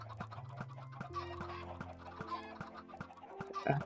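Chickens in the Minecraft video game cluck in short, close bursts over soft, sustained background music tones, with a final louder cluck at the end.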